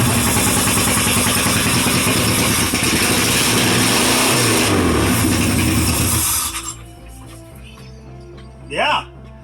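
A Subaru engine in a Sterling Nova kit car runs loud and rough at close range, a dense roaring idle that cuts off abruptly, followed by quiet with a brief voice.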